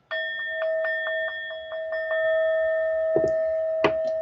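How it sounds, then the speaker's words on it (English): A bright bell chime rings out, then keeps ringing in a steady sustained tone for several seconds, struck again a few times in a quick rhythm, loud and close. "let me give myself the bell"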